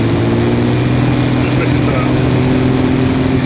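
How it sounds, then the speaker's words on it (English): A Land Rover Defender fitted with a BMW M57 straight-six 330d diesel, an oversized turbo and a teardrop side-exit exhaust runs with a steady droning engine note, while someone speaks briefly over it. "We've got turbo noises, we've got an exhaust note. This has got a teardrop side exit exhaust."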